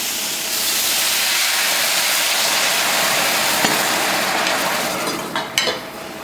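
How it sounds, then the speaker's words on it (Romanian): Wine hisses and sizzles steadily in a hot pan over browned cutlets, a loud, continuous close-up steam hiss that fades toward the end with a few faint clinks. "Acum am să pun vinul, așteptăm până când se evaporă."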